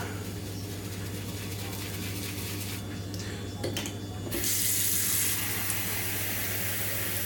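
Tap water runs steadily at close range while a shave brush is rinsed under it, with a brighter, hissing splash toward the end as the flow shifts.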